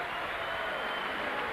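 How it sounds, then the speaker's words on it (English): Salford City Reds rugby league fans applaud an injured player, Chris Tassel, at a 2000 match against Halifax; a steady, dense wash of clapping and crowd noise fills the stadium without a break. "the Salford City Reds fans will applaud Chris Tassel"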